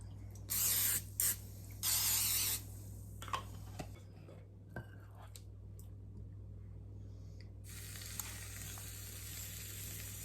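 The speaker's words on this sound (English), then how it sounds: "coat it with some form of cooking spray" A few short hissing bursts of cooking spray onto a waffle iron near the start, followed by a quieter stretch and then a steady sizzling hiss toward the end.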